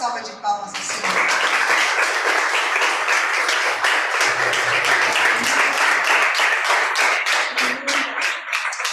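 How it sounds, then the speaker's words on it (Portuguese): Congregation clapping together during a Portuguese-language church celebration service, a dense, loud burst of applause lasting several seconds after a short spoken lead-in. "Vamos dar uma salva de palmas ao Senhor."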